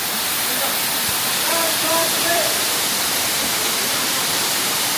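The Kanto Lampo waterfall in Ubud, Bali roars as a constant broadband rush of falling water close by, with faint voices of people mixed in under the steady noise.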